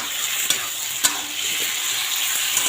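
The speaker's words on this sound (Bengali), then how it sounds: "মশলাটা দিয়ে একটু কষিয়ে নেব।" Vegetable curry sizzles as masala is stirred and sautéed in a pan, a steady close frying hiss punctuated by a few sharp scrapes and taps of the spoon, with no talking.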